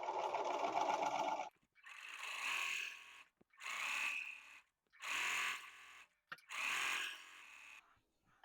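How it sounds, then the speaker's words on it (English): A sewing machine stitching basting rows in fabric runs in several bursts, each a steady mechanical whir of a few seconds with short pauses between, close and fairly quiet, no talking. "The first row of stitches I'm doing here is a 1/2 inch from the edge of my fabric."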